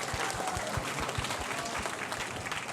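Audience at a San Francisco Chinatown Lions Club teen scholarship gala clapping in a steady, even round of applause that carries on throughout.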